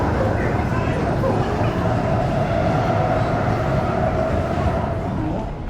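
Busy platform at Waterloo railway station, with a continuous loud rumble of trains and crowd noise, a steady tonal hum running through, and people talking throughout.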